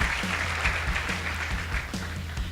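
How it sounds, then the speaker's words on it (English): An audience claps for a high school debate team at a regional competition in Nakuru, a moderate stretch of applause with a low rhythmic thumping running underneath. "Let's give them a hand."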